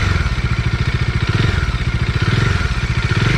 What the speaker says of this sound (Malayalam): എൻ്റെ എൻജിൻ സൗണ്ട് വേണമെങ്കിൽ കേൾപ്പിച്ചു തരാം. ഭയങ്കര സ്മൂത്തായിട്ടുള്ളൊരു എൻജിനാണ്.